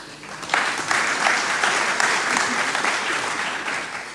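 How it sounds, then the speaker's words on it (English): Audience applause breaks out at an agroforestry conference panel, a sustained even round of clapping from a sizable room, close and steady. "So you got a round of applause"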